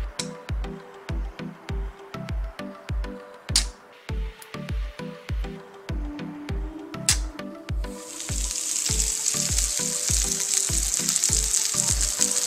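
An Atmizoo Creek vape atomizer coil crackles and sizzles as it fires during a vapor test, with rhythmic clicks and pops up front and a steadier hiss building in the final seconds.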